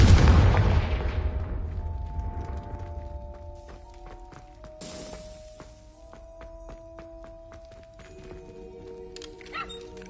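A Confringo fire spell explosion in Hogwarts Legacy, one loud booming blast at the start that rolls off into a long fading rumble, followed by softer chiming tones and scattered small impacts.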